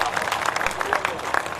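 Audience applause at a Hindi comedy poetry recital (kavi sammelan): dense, steady clatter of many hands clapping, mixed with talk throughout.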